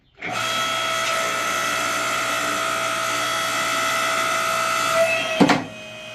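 A Harbor Freight 5-ton electric log splitter pushes into an 11-inch oak log, giving a steady loud motor whine with a constant hum that runs for several seconds, followed by a brief cracking burst near the end.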